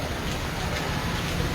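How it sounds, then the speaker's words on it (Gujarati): Heavy unseasonal rain pours steadily on a rural area of Halvad, Gujarat, a dense, even hiss on the surface that continues unbroken throughout, with no voices. "આ તમે જોઈ રહ્યા છો ઘણો બધો વરસાદ પડી રહ્યો છે"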